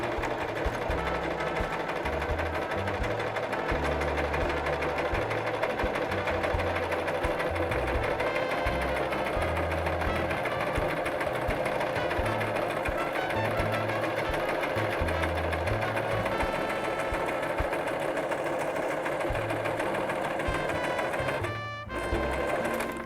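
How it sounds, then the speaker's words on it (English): A sewing machine stitches fabric in a steady, continuous mechanical whir with a rapid rhythmic needle clatter, close and loud for the full stretch with a brief pause near the end and no talking. "Now you can start stitching."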